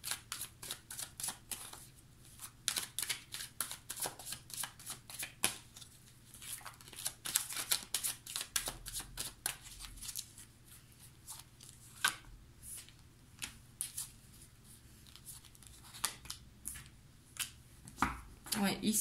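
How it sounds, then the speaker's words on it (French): Tarot cards are shuffled and laid down during a reading, a long series of quiet, close flicks and soft slaps in irregular bursts, with a person talking at times. "Je vais mettre 2 cartes dessus pour avoir plus de précision."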